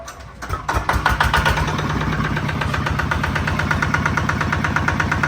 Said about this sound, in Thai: เดี๋ยวก็จะลองเครื่องให้ลูกค้าเลยครับ